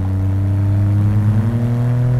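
An Autozam AZ-1 kei car engine revs hard and steadily high, a loud, close, buzzing mechanical drone holding near the top of its rev range without a break.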